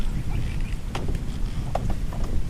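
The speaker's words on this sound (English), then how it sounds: "Sorry about the wind" Steady outdoor wind buffets a microphone near a coop where a hen is kept with chicks and goslings, a low continuous rumble with a few faint clicks and knocks on top.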